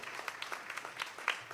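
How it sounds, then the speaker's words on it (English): An audience at a national financial literacy quiz gives a team a soft round of applause, a fairly faint, loose patter of individual claps heard from a distance. "one special round of applause for Team A"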